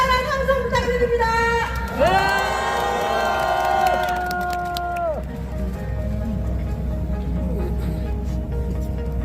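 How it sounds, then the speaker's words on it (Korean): A large crowd at an opposition parties' rally cheers and shouts alongside a blaring horn or siren-like tone that holds for a few seconds then fades, the roar continuing beneath. "여러분 커다란 함성 부탁드립니다."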